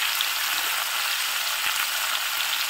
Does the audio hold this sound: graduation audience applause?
no